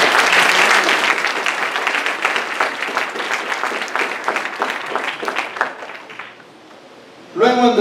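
A church congregation applauds during an anniversary afternoon service, dense loud clapping that thins out and fades near the end before a voice briefly starts speaking.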